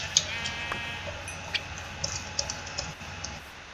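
Sheep in the video game Minecraft bleat faintly in short bursts, mixed with soft keyboard typing and clicking in a quiet background.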